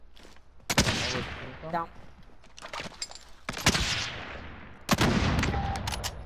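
Video game gunfire in a final-circle firefight, with several loud sharp shots and bursts spaced across the moment, while a voice speaks briefly between them.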